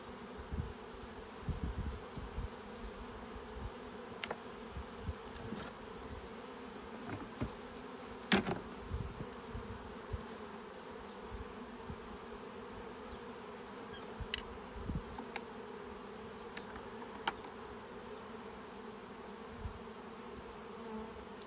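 Honey bees buzz around beehives in Tekirdağ, a faint, steady outdoor drone with occasional louder passes of single bees flying close.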